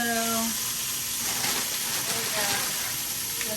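Chorizo pork sausages sizzle and hiss steadily in a frying pan alongside red onions, a continuous close crackle filling the whole stretch with no pauses.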